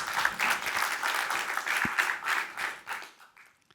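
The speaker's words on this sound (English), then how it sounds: "Please give a warm round of applause to Angela Mols." A conference audience welcomes an ecology speaker with warm applause, a dense, even patter of many hands clapping at moderate volume that thins out and fades over the last second.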